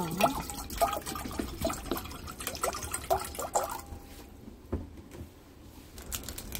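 Water is poured into a pot for cooking ramen, giving splashy, uneven trickling and dripping sounds at moderate, close range, with outdoor wind and rain faintly behind.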